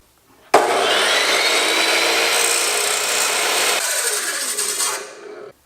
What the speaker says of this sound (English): The last little bit I'm going to cut with a grinder